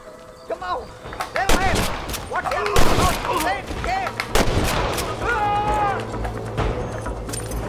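Red Dead Redemption gunfight: rapid, loud gunshots cracking and booming in irregular bursts, with heavy echoing blasts and shouting voices layered over the shooting.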